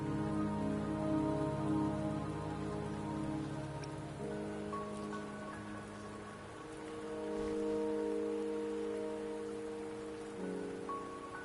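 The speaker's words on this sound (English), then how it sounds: "Don't worry, the rain won't last much longer." Rain falls steadily in the video game Wuthering Waves, a soft constant patter beneath sustained musical tones, with faint swells in intensity throughout.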